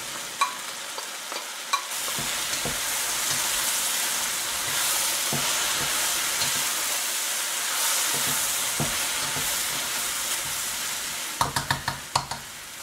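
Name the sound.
mushrooms frying and sizzling in a pan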